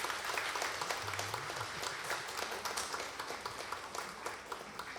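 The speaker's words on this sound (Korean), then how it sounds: "축복의 박수 부탁합니다." A church congregation at a Sunday worship service gives sustained applause of blessing after a prayer, a steady wash of many hands clapping at moderate distance without a break.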